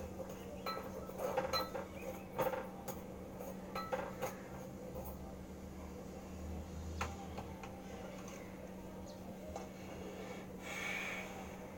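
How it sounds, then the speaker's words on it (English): Calcium oxide being stirred in a container, giving faint, scattered scraping and clinking taps at an irregular pace over a steady low background hum. "We will stir it again a little bit."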